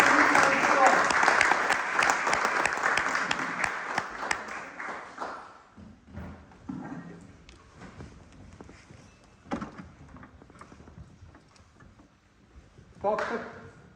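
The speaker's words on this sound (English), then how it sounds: "A huge round of applause for Dr. Sunil Kanti Roy." Applause rises from an audience at an Indian diaspora event in Oxford, sustained clapping that gradually thins out over several seconds into scattered taps and room noise, with a short burst of voices near the end.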